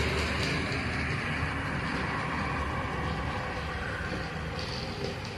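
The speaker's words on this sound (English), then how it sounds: "We'll follow the train around." An HO scale model train runs along its track in a model city layout, a faint steady rumble with soft rolling noise continuing evenly throughout and no talking.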